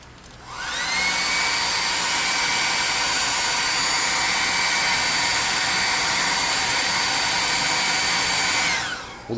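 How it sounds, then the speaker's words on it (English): A blow dryer runs steadily for several seconds while drying freshly painted miniature fish, a loud close whirring airflow with a high whine that cuts off at the end. "All right, I'm gonna hit these with a blow dryer."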